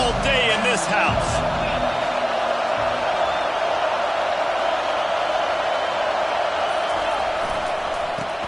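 Loud, steady roar of a packed football stadium crowd at a high school championship game, a dense wash of noise that holds throughout with no letup.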